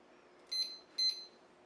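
Two short, bright electronic beeps come from a kitchen timer as it is set, spaced about half a second apart and clear over quiet room noise.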